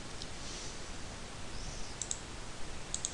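A computer mouse right-clicks during 3D level-editor work, giving a few faint, sharp clicks near two and three seconds over a steady low background hum, with no talking.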